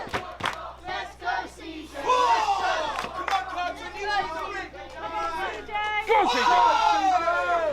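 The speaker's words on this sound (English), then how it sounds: "the crowd are doing their best to help CJ Carter" A pro wrestling crowd roars throughout a match, a loud, dense mass of shouting, chanting and cheering voices that swells toward the end.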